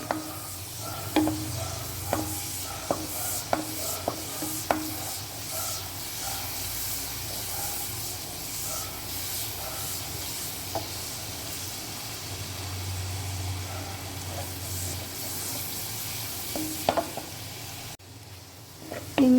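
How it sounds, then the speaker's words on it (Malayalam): Crushed ginger, garlic and fennel seed frying in hot oil in a pan for a potato and soya chunk meat curry, giving a steady low sizzle with scattered stirring clicks and scrapes, no talk. "അതിലേക്ക് കുറച്ച് ഇഞ്ചി, വെളുത്തുള്ളി, പെരുംജീരകം ചതച്ചതിട്ട് കൊടുക്കാം"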